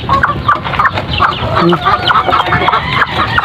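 Chinese breed chickens clucking steadily at close range, busy overlapping calls from several birds in a farm setting.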